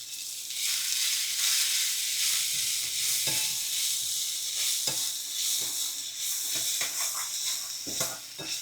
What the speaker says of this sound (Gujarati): જો લસણ એકદમ મસ્ત બ્રાઉન જેવું કડકડું થઈ ગયું હવે એમાં નાખીશું ભીંડા.